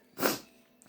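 A single sharp sneeze bursts out close by, brief and loud, then fades into quiet room tone.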